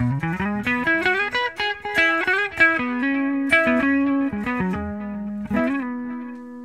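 Carvin DC127C electric guitar in humbucker mode playing a melodic single-note line with bends and sustain, full and slightly thick in tone, close and loud with a touch of reverb.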